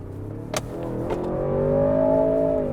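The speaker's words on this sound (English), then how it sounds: "Downshift all the way and give me like a full red line." A 2023 Range Rover Sport's engine revving hard toward redline after a full downshift, a rising tonal roar that swells and holds near the top, close and loud, preceded by a couple of brief knocks.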